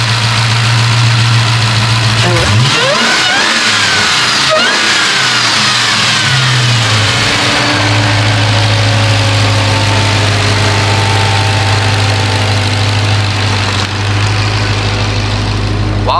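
A sports car engine idles loudly nearby, then revs in several rising and falling sweeps with a high whine, before settling back to a steady idle.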